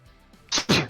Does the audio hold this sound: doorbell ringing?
no